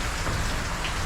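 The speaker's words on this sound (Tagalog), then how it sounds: "malakas ang ulan." Heavy rain pouring steadily in a dark outdoor spot where vehicles are parked, a dense, loud, unbroken hiss with no talking.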